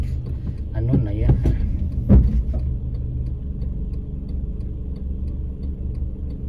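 A car drives along a road during marathon detours, its engine a low, steady cabin rumble heard from inside, with a voice talking over it early on.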